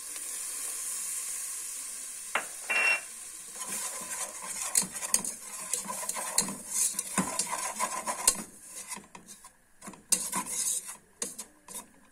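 A utensil scrapes and stirs butter in a pan amid a soft sizzle, with uneven clinks and scrapes close up.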